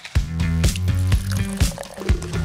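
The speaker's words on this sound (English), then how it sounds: "Watch where you're pouring, Adam" Fizzy sugar soda being poured for a refill, with a series of wet splashing drips and glugs, roughly five or six distinct pulses over a couple of seconds, close and clear.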